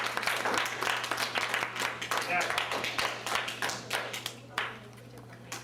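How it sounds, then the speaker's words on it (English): Audience applause at a live Spectacle Productions show, following a static electricity demonstration, a loud crisp burst of many clapping hands that thins out toward the end with a low steady hum underneath. "Give her a big round of applause."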